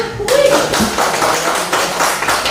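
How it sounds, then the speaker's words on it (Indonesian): A church congregation claps their hands during a special worship service, a dense wash of many palms sustained throughout, fairly loud and close. "Tepuk tangannya mana?"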